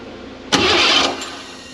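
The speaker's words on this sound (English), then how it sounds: "Let's crank it real slow." A Ford 302 V8 in a van cranking slowly on the starter, a short abrupt whirring burst of about half a second close by, then dropping back to quiet.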